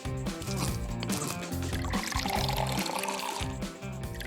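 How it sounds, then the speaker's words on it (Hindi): Water is poured onto mixed ingredients for a homemade collagen face mask, a close, continuous trickling and splashing pour that rises slightly in intensity midway. "इंग्रेडिएंट को मिलाएंगे और पानी डालेंगे।"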